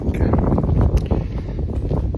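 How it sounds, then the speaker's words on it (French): Outdoor wind buffeting the microphone on a seaside walk in Arès, a loud, rumbling low roar with irregular gusts, close and constant across the short stretch. "Il y a du vent, on est bien."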